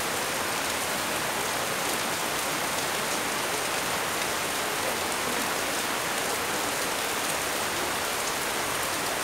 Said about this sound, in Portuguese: como está chovendo